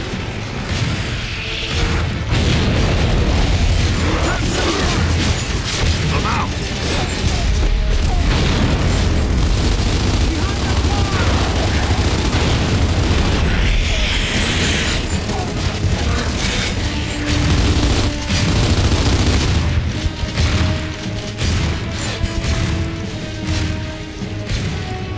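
A frag grenade blows up amid heavy battle in the video game Gears of War 2, deep booms and crashes rolling over constant loud combat noise, with voices shouting at times.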